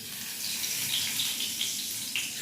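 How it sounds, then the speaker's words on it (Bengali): Green cardamom sizzles in hot mustard oil for a Bengali eggplant and mustard hilsa dish, a steady close hissing crackle with faint bright pops throughout. "তেল গরম হয়ে গেছে, ফোড়ন হিসেবে আমি একটু এলাচ দিয়ে নেব, ছোটো এলাচ।"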